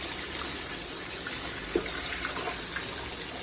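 Hot water pours steadily into a cooking pot for biryani, a continuous splashing gush at close range.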